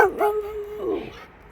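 A dog howls in a long, sustained wavering note, with short yips and barks at the start, close and fairly loud, alone with no talk over it.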